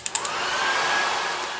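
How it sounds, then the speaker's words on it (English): A hair dryer blows steadily and close by, drying a mixed media background between applications, with a couple of faint clicks at the start before the airflow settles into a continuous whoosh. "you want to use a hair dryer or a heat gun to dry in between applications"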